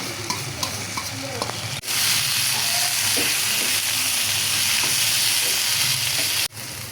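Vegetables fry with tomato and chilli sauce in a hot pan, giving a loud, steady sizzle and hiss close by, with scraping stirs and a brief break partway.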